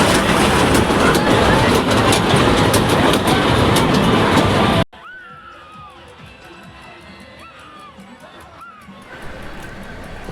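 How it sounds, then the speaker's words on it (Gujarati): Train at a crowded fair station, arriving with a dense, loud rumble and rattle for about five seconds that then cuts to quieter ambience with faint squeals and voices. "ટ્રેન આવી ગઈ છે."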